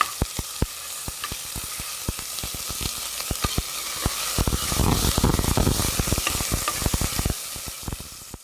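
Sliced onions sizzling and frying in hot spices inside a pressure cooker for a cauliflower pulao, with a steady hiss broken by sharp scraping stirs that swell midway, close and fairly quiet.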